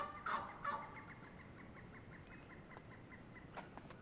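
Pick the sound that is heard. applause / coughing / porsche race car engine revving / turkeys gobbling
turkeys gobbling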